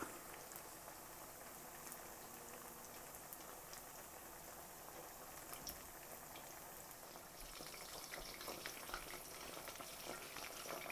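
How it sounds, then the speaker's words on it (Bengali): Chicken pakora coated in flour batter deep-frying in hot oil, a steady dense crackling sizzle running throughout with no talk. "তো এটা ভাজা হোক।"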